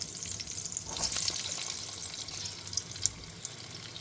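Unnakai snacks frying in hot oil, a steady faint sizzle and crackle with a few small pops, close and alone with no talk.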